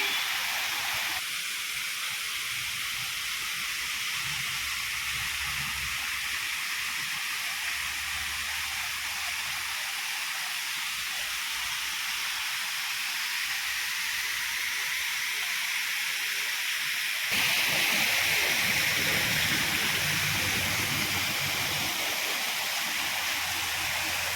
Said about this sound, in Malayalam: ഇങ്ങനെ വെള്ളച്ചാട്ടമൊക്കെ കാണാം